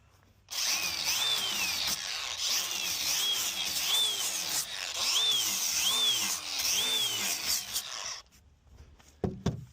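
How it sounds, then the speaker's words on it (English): A palm sander whirs steadily against wood for several seconds, its pitch wavering with each pass, then cuts off, followed by a few faint knocks. "here especially saving us a lot of sanding with the palm sander."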